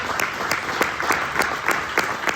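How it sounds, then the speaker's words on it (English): A short burst of audience applause, steady clapping from a crowd at moderate volume, with no voices over it. "So give yourselves another round of applause."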